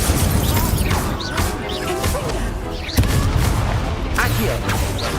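A fire charm spell in a Harry Potter video game erupts in loud crashing whooshes and blasts amid other spell impacts and chaotic combat noise, with a sharp hit near the middle.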